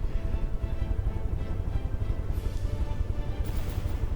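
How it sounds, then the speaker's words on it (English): Naval battle in the From The Depths game, with a Yorktown- or Ticonderoga-class ship firing at point-blank range: dense, continuous rumbling gunfire and booming explosions, loud and steady throughout, with sharper crackling bursts near the end. "Oh, big explosion."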